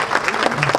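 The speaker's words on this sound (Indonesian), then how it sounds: "Tepuk tangan lagi." Audience applause at an Indonesian provincial government gathering in Papua Barat, a dense burst of clapping with some voices mixed in, close and fairly loud.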